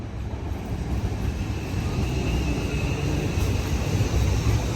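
An LNER Azuma train at London Kings Cross station produces a steady, loud rumble with a faint high whine, continuous throughout and without speech.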